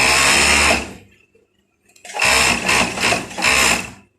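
A sewing machine runs in loud, close bursts while stitching a pair of shorts, with one long run, a pause, then several shorter pulses.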